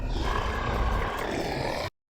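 A loud, sustained roaring growl from a human voice imitating a dragon, lasting about two seconds and then cutting off abruptly.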